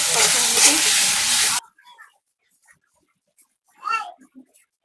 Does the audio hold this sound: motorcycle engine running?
no